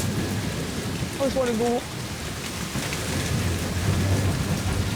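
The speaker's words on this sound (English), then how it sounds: "It's just constantly fucking raining." Heavy tropical rain pours steadily during a storm, a dense close hiss with low rumbling beneath, while a person speaks briefly over it.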